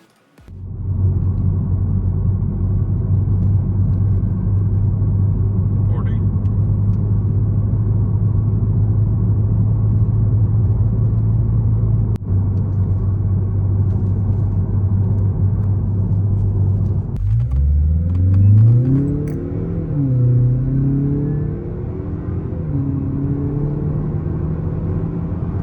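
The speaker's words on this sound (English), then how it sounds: "this makes an aggressive 3-inch exhaust livable for the daily driver" A 2021+ Mazda 3 Turbo with a 3-inch, 80mm cat-back exhaust drones with a steady low rumble at idle, then the engine revs up and down several times, the pitch rising and falling loudly.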